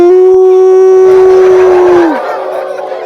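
A voice imitates a dog's howl: one long, steady, drawn-out tone held for about two seconds, then sliding downward and trailing off.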